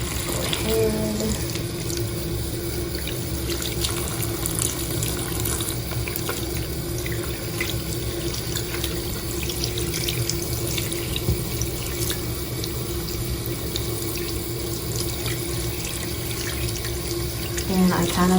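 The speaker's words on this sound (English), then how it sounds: "I kind of just let the water run in all kinds of directions of the crystal." Water running steadily from a tap and splashing over a crystal held beneath it, a continuous close hiss and patter with small clinks, lasting the whole stretch.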